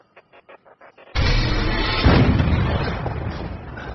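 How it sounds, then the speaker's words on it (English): A single cannon shot in the anime Attack on Titan: faint clicking ticks, then a sudden loud boom that swells and rolls into a long, fading rumble. "Cannon fire!"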